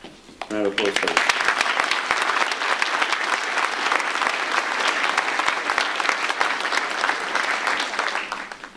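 Loud, sustained applause from a school audience at a certificate of achievement ceremony, dense clapping starting abruptly after a brief spoken moment and holding steady to the end.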